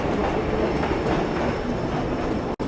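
A train rolls along the tracks in Assassin's Creed III, a steady, loud, dense rumble with faint clickety-clack that cuts off abruptly near the end, with no voices.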